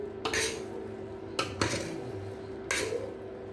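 A utensil scrapes and clanks against a pan three times while pancit noodles with cabbage are stirred, the metallic knocks sharp and close over a quiet background hum.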